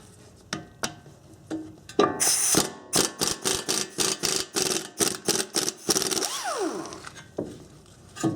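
Ratchet wrench turning 12mm bearing bolts on a Honda Accord steering knuckle, a close, crisp series of rhythmic clicking bursts, one per swing, with a few isolated clicks and knocks at the start.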